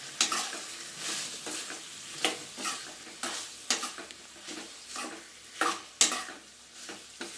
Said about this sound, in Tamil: இதையும் சேர்த்து நல்லாவே வதக்கிக்கலாம்.